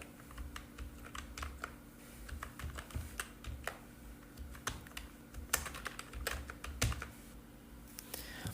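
Keys clack on a computer keyboard during Photoshop work, a quiet, irregular run of close taps and clicks continuing throughout over a low background hum.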